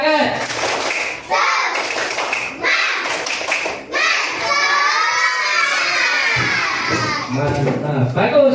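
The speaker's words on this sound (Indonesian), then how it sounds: "Kita tepuk semangat sekali lagi." A class of sixth-grade children in an Islamic religious education lesson stand and perform a rhythmic spirit-clapping chant, with loud group claps mixed with shouted voices and a teacher's talk.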